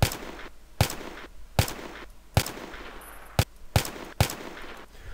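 Weapon fire in a DICE shooter game, a series of sharp, punchy shots spaced roughly every second, each trailing into a reverberant tail, loud and close with no talking.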